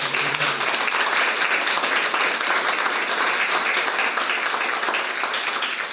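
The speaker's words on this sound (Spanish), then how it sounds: "Un aplauso para el Señor" A church congregation applauds steadily and loudly for the full stretch, a dense even wash of many hands clapping together, with a faint voice briefly audible near the start.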